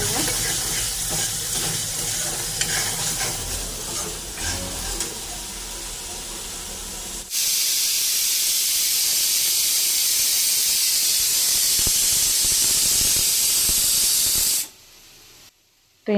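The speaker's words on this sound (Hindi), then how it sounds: "उधर कुकर में मटर उबल रही है" A pressure cooker boiling peas lets out a loud, constant hiss of escaping steam for about seven seconds, following a stretch of quieter kitchen noise, then it cuts off abruptly.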